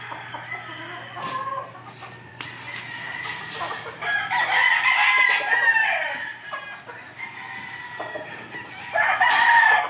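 A hammerfoot hatch gamefowl rooster crows loudly and clucks nearby in a farmyard, with calls rising and falling across several bursts and a strong crow near the end.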